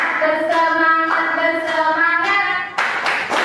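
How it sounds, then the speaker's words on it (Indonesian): A group claps together in short rhythmic bursts during an icebreaker at a meeting, with sustained voices chanting or singing between the claps, close and fairly loud. "Tepuk janji fokus."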